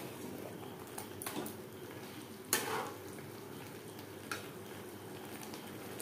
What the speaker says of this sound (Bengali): মাংসের সাথে টমেটোর পেস্ট বেশ ভালো করে মিক্স করে দেবো।